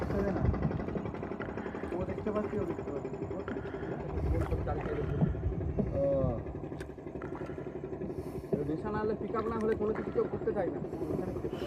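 A motorboat comes straight toward people on the water, its engine drone steady and fairly loud throughout, with people talking over it.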